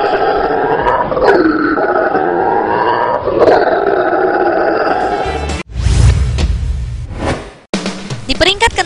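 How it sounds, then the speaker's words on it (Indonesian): A howler monkey calls with deep, rolling roars, loud and sustained for several seconds, followed by abrupt shifts into other rough, noisy animal sounds. "Rahasia di balik suaranya yang melengking adalah kantung pada tenggorokan monyet yang berukuran sangat besar ini."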